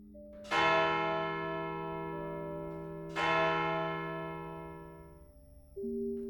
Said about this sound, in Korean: 어디선가 종소리가 들려왔어